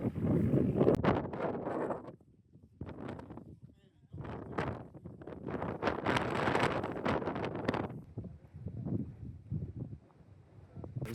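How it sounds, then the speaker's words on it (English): Strong wind gusts outdoors in a desert national park, buffeting the microphone in loud rushing bursts that drop away briefly between them, with a person speaking during the gusts. "It's incredibly windy out here right now."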